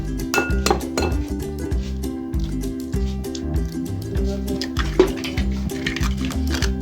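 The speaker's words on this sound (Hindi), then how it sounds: "इसमें डालेंगे एक अंडा," An egg is cracked into a bowl amid a series of close, bright clinks and taps of shell and dishware against the bowl, repeated rhythmically over a faint low hum.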